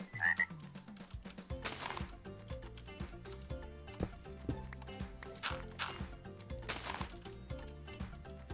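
A tree frog from the Zoo and Wild Animals mod in Minecraft gives a brief, high, chirping croak near the start, then the clip continues with steady game music.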